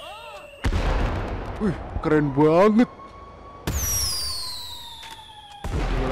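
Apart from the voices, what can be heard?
fireworks being shot upward at New Year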